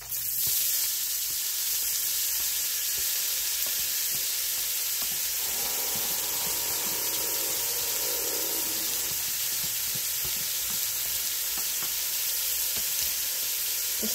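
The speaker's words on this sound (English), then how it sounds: "going to saute that right up for a couple minutes" Chopped onion, celery sticks and garlic sautéing in a pot for beef stew, a steady close sizzle and hiss with faint stirring, no talking.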